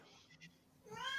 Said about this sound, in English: Oh, shut up, you crazy cat.